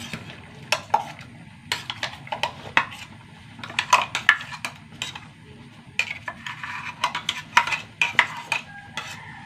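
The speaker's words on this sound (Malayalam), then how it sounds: "ഇനി നമ്മുടെ അരപ്പിട്ട് കൊടുക്കാം" Ground coconut paste is stirred into a simmering tamarind curry in a pot; a spoon scrapes and clinks against the metal in close, irregular bursts over a low bubbling background, with no talking.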